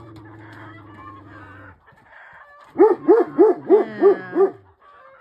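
Farm chickens calling out in a rapid series of six loud, rising hoot-like squawks, preceded by softer clucking and crowing, with one brief word spoken nearby.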